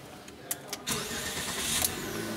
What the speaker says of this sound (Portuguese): Deixa eu ver se eu consigo ligar esse carro aqui.